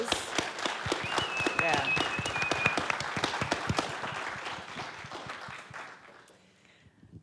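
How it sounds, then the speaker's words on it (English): A crowd applauds the sponsors at an evening event, with dense, steady clapping that holds for several seconds before thinning out near the end. A voice speaks briefly over it. "So can we actually give them a big round of applause?"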